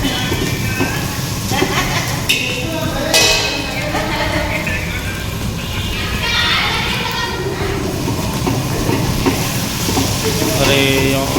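Vankaya tomato aloo curry being stirred and mixed in a pan, a continuous sizzle with scraping spoon sounds close by, while voices talk over it throughout.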